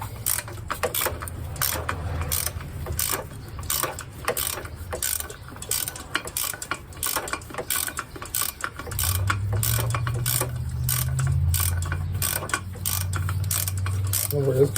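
A hand ratchet with a wobble socket works loose engine parts on a 2008 Malibu, giving close, repeated clicking bursts in an uneven rhythm over a low hum, with a low voice murmuring partway through.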